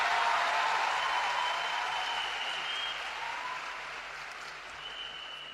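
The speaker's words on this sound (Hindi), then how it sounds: "तो एक बार जोरदार तालियां देश के प्रधानमंत्री नरेंद्र मोदी जी के लिए" Loud, sustained applause from a large audience cheering Prime Minister Narendra Modi at a public gathering, a dense steady clapping that fades slightly toward the end, with no voices over it.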